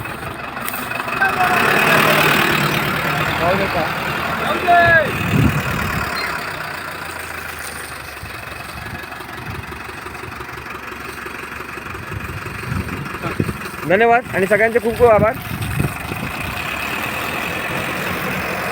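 Municipal vehicle engine idling while its crew waters roadside trees, a steady mid-low rumble running throughout beneath someone speaking.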